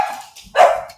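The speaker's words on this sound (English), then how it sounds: "oh, sorry about the dogs." Dogs bark in a short, loud burst indoors, a single sharp bark following a faint lead-in yip.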